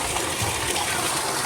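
Water gushes steadily into a pool beside a house under construction where soil is being filled in, a dense continuous rush close by with faint voices underneath.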